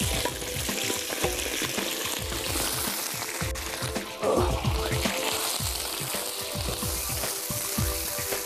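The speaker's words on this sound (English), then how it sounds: "Мясо нужно хорошо перемешивать," Meat for Uzbek pilaf fries in fat in a pot with a close, steady sizzle while a utensil stirs and scrapes through it in rhythmic strokes, with a brief louder burst midway.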